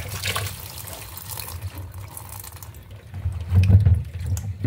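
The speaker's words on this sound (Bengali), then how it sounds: "ধুইলো না তো, সেই জন্যে আমি আবার ধুয়ে নিচ্ছি" Tap water runs steadily over ridge gourds (chichinga) being rinsed in a sink, a soft splashing stream that swells louder near the end.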